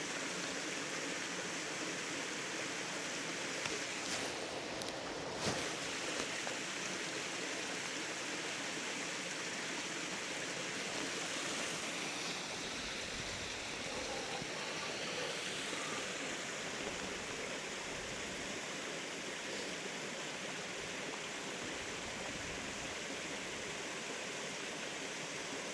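Steady rushing and babbling of a stream flowing near a tunnel, loud and continuous throughout with no talk.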